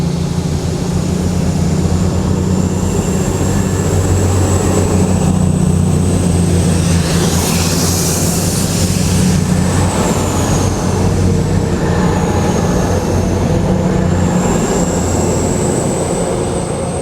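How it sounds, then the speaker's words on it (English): An East Midlands Railway Class 222 diesel unit, 222-013, pulls away from a station platform at Chesterfield, its steady low engine drone and rising hum sustained throughout with no talk over it. "Getting ready to depart now, be your 1313 East Midlands Railway service from Sheffield to London St Pancras"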